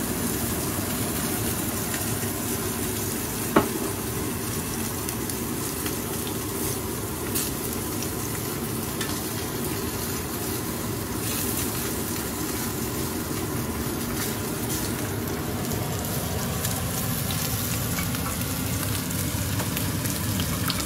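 Food frying in oil in a pan while scallop scampi is cooked, a continuous low-level sizzle and hiss with a faint clank partway through, no talking.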